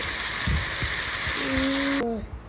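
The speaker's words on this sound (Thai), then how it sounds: "ตอนนี้ฝนตกแล้วไป เสียงฝน" Rain falls steadily as a dense, loud hiss that fills the clip, with scattered low thumps and a short tonal honk near the end, at night during a drive to a haunted spot in Thailand.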